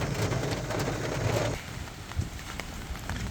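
Steady rain patters on a taut tent surface of a Naturehike Village 6 tent, a dense hiss that eases slightly partway through, with scattered louder drops and no voices.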